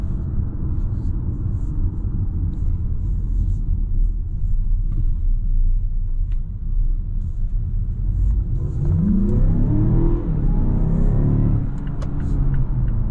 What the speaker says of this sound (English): We're going to put into sport. You can already hear the gear being lower.